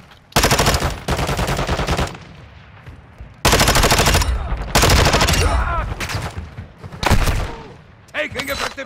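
Heavy automatic gunfire rattles through a video game shootout, with loud sustained bursts broken by brief pauses and a voice shouting over the shots.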